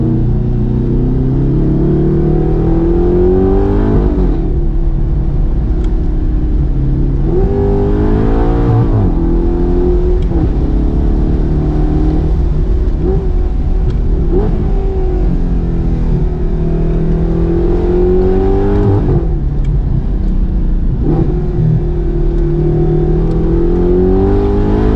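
An Audi R8 sports car accelerates hard on a test drive, its engine revving loud and close in rising and falling sweeps that repeat across the whole stretch, with a steady low drone underneath.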